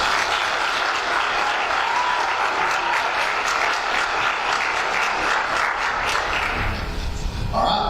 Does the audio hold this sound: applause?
yes